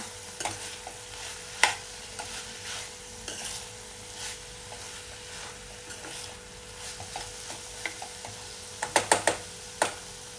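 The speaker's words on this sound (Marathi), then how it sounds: "मीठसुद्धा व्यवस्थित असं मिक्स करून घेऊया." Snake gourd and dried fish stir-fry being stirred in a pan, with a soft scraping sizzle and intermittent spoon clicks, including a quick cluster of taps near the end.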